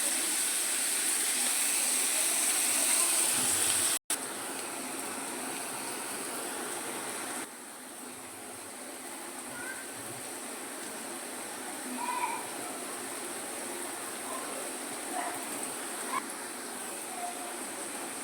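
Chopped onions for a mutton curry fry in a pan with a soft, continuous sizzling hiss that drops a little partway through, with a few faint clicks scattered over it.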